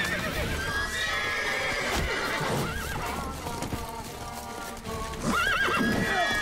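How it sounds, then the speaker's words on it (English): A horse in the video game The Witcher 3: Wild Hunt whinnies loudly twice, the calls rising and wavering, over steady clip-clop hoofbeats and a bed of game sound, with no talking. "Can you run, horse, or you're just gonna stand there?"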